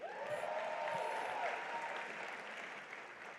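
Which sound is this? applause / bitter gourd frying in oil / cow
applause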